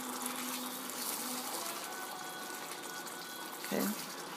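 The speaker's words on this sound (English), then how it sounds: "let's do half a cup of water, and then just stir it in there." Half a cup of water pours into a pan of chicken tikka masala with a soft, steady gush, followed by a brief splash near the end, amid light kitchen clatter.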